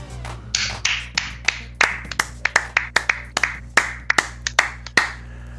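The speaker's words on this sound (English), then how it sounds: "Serious golf clap on that 150. Yes, the slow 150 golf clap." A deliberately slow golf clap dropped into a triathlon podcast: a dozen or so crisp, close hand claps at a steady, unhurried pace, each sharp and loud against a faint low hum, with no speech.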